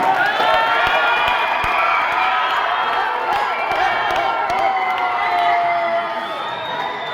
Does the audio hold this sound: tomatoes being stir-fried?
no